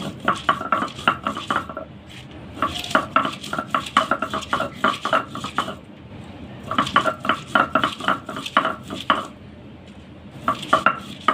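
Dried chilies being ground on a grinding stone, with bursts of scraping, knocking strokes in quick rhythmic runs separated by short pauses, close and clear with no talk.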